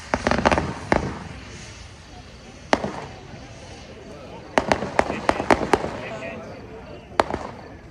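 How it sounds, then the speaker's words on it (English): A competition firework shell with gold sparks, glass glitter pods on the ascent, gold strobe stars and crossette headers gives a scatter of sharp cracks and pops, several in quick clusters, over steady crowd and outdoor noise. "gold sparks, breaking glass glitter pods on ascent with gold strobe stars halfway through flight, ending with crosshead headers."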